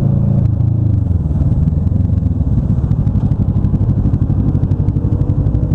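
Scooter engine in traffic, loud and close, with a steady rough buzzing drone and clattery texture that holds throughout without clear pauses.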